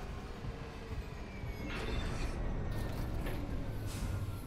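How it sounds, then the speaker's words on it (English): In the Dead Space Remake, a tram rolls into the flight deck tram control station with a steady low rumble that swells and grows louder, overlaid with metallic screeching and hissing, with no voices. "Now arriving at flight deck tram control."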